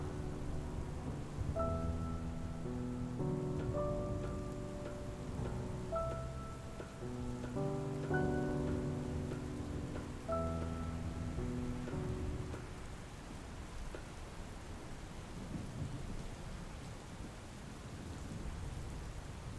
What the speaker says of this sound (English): Looks like rain, don't it?